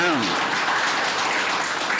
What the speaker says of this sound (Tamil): நம்மளாம் கைத்தட்டி வரவேற்கணும்.